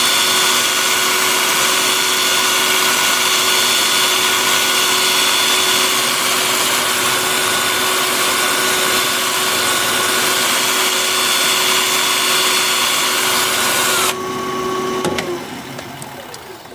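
A wood lathe spins scrap apple wood pieces for polishing at about 1,000 RPM. A steady, loud motor whine and hum runs for most of the time, then cuts off and winds down near the end.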